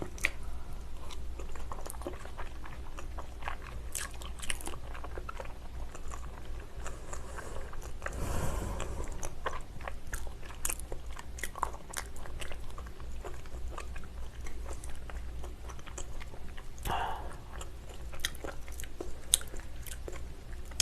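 Raw salmon sashimi, fatty belly cuts, is chewed close to the mic in soft, wet, squishy bites that repeat steadily, with one louder bite partway through and no talk.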